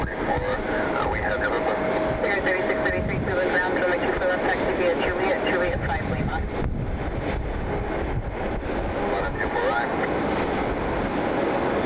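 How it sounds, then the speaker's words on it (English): Wind buffeting a camera mounted up high at night at Cleveland Hopkins International Airport, a loud continuous rumbling roar with gusty fluctuations that nearly drown everything else. "Definitely got some wind up here tonight. You can feel it shaking the camera every once in a while."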